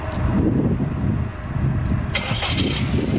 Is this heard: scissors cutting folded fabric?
no